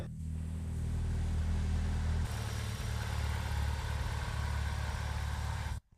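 A BMW drift car with a 1.8 engine idles close by after engine repairs, a steady, loud, even rumble that shifts slightly in pitch partway through and then cuts off abruptly near the end, with no talking.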